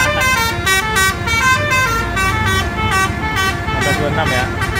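A Pahala Kencana bus horn plays a loud, rhythmic musical melody of repeating tones over steady engine rumble, close and continuous throughout.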